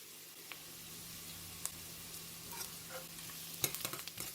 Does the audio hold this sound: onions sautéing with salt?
yes